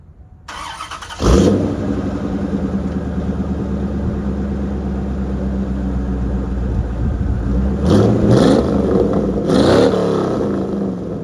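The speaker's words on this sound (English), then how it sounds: "Let's hear how this car sounds." A Corvette engine cranks and catches after about a second, then settles into a loud, steady idle close by, with two sharp throttle blips that rev it up near the end; no one speaks.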